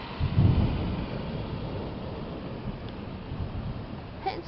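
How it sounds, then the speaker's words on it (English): Thunder rumbles loudly and close in the opening second of a heavy rainstorm, then rolls away under a steady downpour. A few faint, brief ticks come near the end. "That thunder makes you jump."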